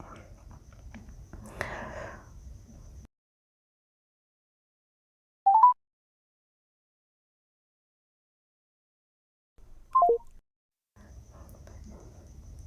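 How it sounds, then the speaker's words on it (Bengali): A mobile phone with two SIM cards dials a number on SIM 1. Two short electronic tones sound about four seconds apart, separated by silence, with someone talking before and after. "নাম্বারটি এখন ডায়াল করব, মানে কল দিব।"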